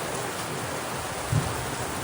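Steady rain falls outdoors at a roadside food stall setup, an even broadband hiss of drops on surfaces with a brief low thump near the end and no wind.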